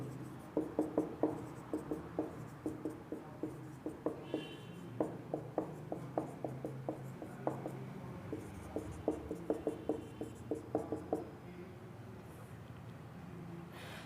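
Pen or pencil writing by hand on paper, a steady run of quick, soft scratching strokes up close, quiet and continuous with brief pauses, no voices.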